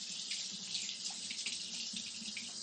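A kitchen tap runs steadily while fingers are rinsed off after shaping pumpkin donut holes, giving a continuous close hiss and splash with no voices.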